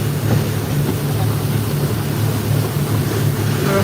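Steady drone of a speed boat engine with splashing waves and wind buffeting off Komodo island, continuous throughout with a low hum.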